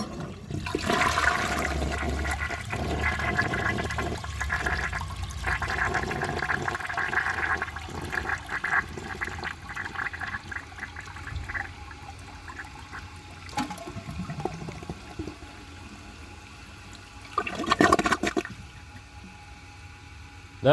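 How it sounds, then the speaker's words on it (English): A 1976 American Standard Cadet toilet is flushed with a dry bowl. A rushing swirl of water slowly fades into trickling and dripping, then a short gurgling surge comes near the end. The flush sounds slow and weak throughout. "For the first flush test, let's see how it flushes with a dry bowl."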